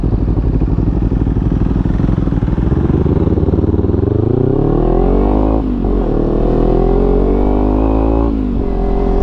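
Steady engine drone of a 2020 KTM Duke 390 single-cylinder motorcycle under way, loud and close throughout, with rising pitch sweeps as it accelerates through the gears and brief dips at shifts.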